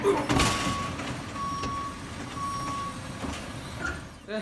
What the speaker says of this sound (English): Just landed in the garbage truck